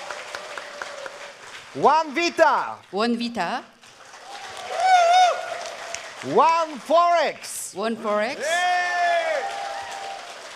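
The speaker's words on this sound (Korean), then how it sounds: "Ladies and gentlemen, applause for One Voyage." An audience applauds at a One Ecosystem cryptocurrency event in Korea in June 2023, a background wash of clapping running steadily beneath an amplified announcer who speaks over most of it.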